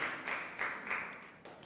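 Audience applause at a sermon, a brief burst of faint clapping from a hall crowd, heard alone.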